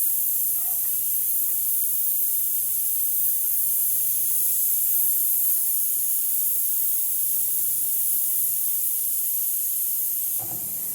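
Onions frying in hot oil, a steady, even hiss that holds unchanged for the whole stretch, close by, with no stirring or voices.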